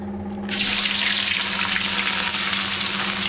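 Chopped onions drop into hot mustard oil and set off an abrupt, loud, sustained sizzle, with a low steady kitchen hum running underneath.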